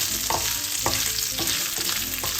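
Pork frying in a hot pan for Ilocano pinakbet, with a steady close sizzle under a regular rhythm of utensil scrapes as the meat is stirred, about five strokes, no talking.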